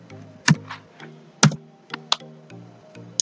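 Typing on a computer keyboard into a browser search box: several distinct keystrokes and clacks in uneven clusters, close and clear, with a low hum underneath and no talking.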